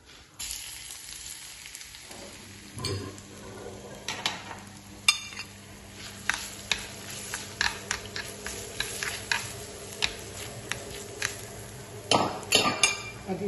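Chopped onion tipped into a pan of frying garlic for a tajine kefta, a steady sizzle broken by repeated clinks and scrapes of a utensil stirring against the pan.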